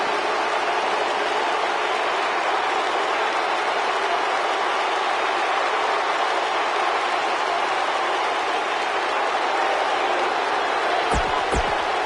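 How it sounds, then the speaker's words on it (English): Crowd noise from a wrestling arena in the video game WWE 2K19, a loud continuous roar and hiss of cheering that holds steady throughout, with a brief sharp knock near the end. "And Michael, it sounds to me like this crowd already picked the one who they want to win this match"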